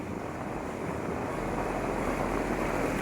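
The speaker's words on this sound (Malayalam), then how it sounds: "നല്ല കാറ്റുണ്ട് കേട്ടോ ഗൈസ്." Strong wind sweeps over a houseboat on the Kerala backwaters, a loud, continuous rushing roar that buffets steadily with no voices.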